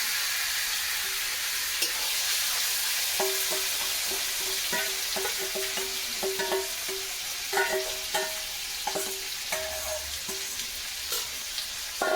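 Marinated meat with salt and turmeric fries in a pan under a loud, steady sizzle. A spatula stirs it with repeated scraping and clinking strokes that grow busier partway through.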